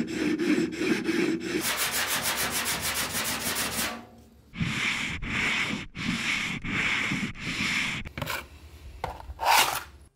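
Sanding on Porsche 911 bodywork comes as a run of rhythmic, raspy rubbing strokes, rapid at first, then slower distinct passes separated by short pauses, close and fairly loud.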